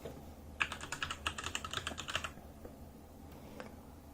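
Bursts of rapid clicky keystrokes on a Razer keyboard with orange switches, a quick even run of taps followed by a few scattered strokes, close up and alone without talk.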